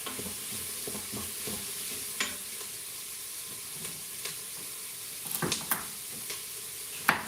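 Food sizzles and hisses while sautéing in an Instant Pot on sauté mode, a steady frying crackle with occasional scraping stirs and clinks of a utensil against the pot, heard up close.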